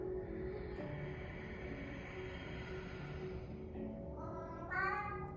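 A cat meows softly a few times, fairly close, with a brief louder meow near the end over a low background rumble.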